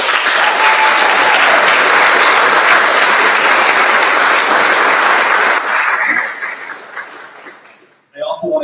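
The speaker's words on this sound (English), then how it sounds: "I'd like to conclude by applauding the 22 newest members of Tamarac's National Honor Society." An audience at a National Honor Society induction ceremony applauds the 22 newest members, a long loud wash of clapping that tapers off before a voice starts speaking.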